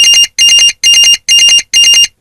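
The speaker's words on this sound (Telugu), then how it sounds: "నాకు ఫోన్ వస్తుందండి, కాస్త మాట్లాడుకోవచ్చా?" A telephone ringing at a stage play, five loud bursts of bright electronic ringing evenly spaced with short gaps, clear and close with no voices.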